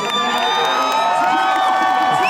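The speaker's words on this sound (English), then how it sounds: "The crowd are talking through the moves" A packed crowd at a men's bouldering final in Prague cheers and whoops loudly and continuously, many voices shouting together with high-pitched calls rising over a dense, sustained roar.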